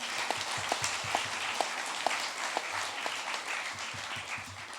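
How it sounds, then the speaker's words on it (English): An audience at a middle school closing ceremony breaks into a round of applause, steady clapping with a few sharper claps standing out, fairly distant. "Another round of applause."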